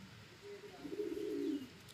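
A single soft, low coo from pigeons kept at a house, including tournament flying pigeons, rises out of a faint, quiet background for about a second, with no talking.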